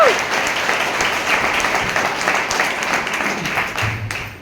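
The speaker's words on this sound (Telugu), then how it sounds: "అయితే క్లాప్స్ కొట్టండి బిగ్ రౌండ్ అట్లా" An audience at a motivational talk breaks into a loud, sustained round of applause, dense clapping filling the space evenly before it trails off.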